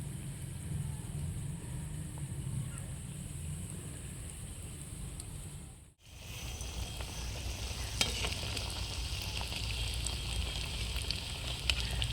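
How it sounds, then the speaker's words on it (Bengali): Egg chops frying in shallow hot oil, a steady close crackling sizzle that breaks off briefly midway and then returns brighter and denser, with occasional sharper pops. "এবার আমি ডিমের চপগুলোকে এক এক করে দিয়ে দেব।"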